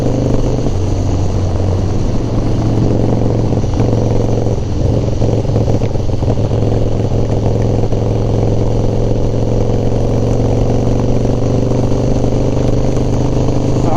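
Harley FXR motorcycle engine running steadily up close, a loud continuous idle with a slightly rough, uneven quality as it starts to break up.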